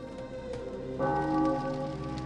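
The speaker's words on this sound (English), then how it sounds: "So you hear the bells?" Alarm bells ring from a tower in the video game Populous: The Beginning, a faint, steady metallic chime with sustained ringing tones that swell slightly partway through and carry on without any speech.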